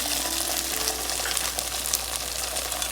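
Vegetables sautéing in a pan for a Chinese vegetable sizzler, giving a steady close hiss and crackle of frying throughout with faint stirring scrapes and no talk.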